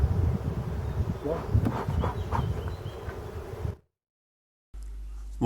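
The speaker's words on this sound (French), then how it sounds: "on peut voir que les abeilles se sont calmées" Honeybees buzzing at an open, very populous hive, a steady dense hum close by that cuts off abruptly to silence, then resumes briefly.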